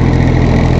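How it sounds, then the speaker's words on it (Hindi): Loud, steady engine drone of a Massey Ferguson 1035 DI 35 HP tractor driving a 6-foot Shaktiman rotavator in a field, a constant close rumble with no voices over it. "आप 35 HP के ट्रैक्टर के साथ आराम से चला सकते हैं यहाँ पर रोटावेटर"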